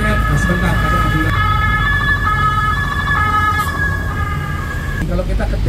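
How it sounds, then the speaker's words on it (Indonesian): An ambulance siren wails continuously as it passes along a city street in Bandung, loud and near over dense traffic rumble, its rising and falling tones sliding as it moves by. "Nah, sebentar, ada ambulan."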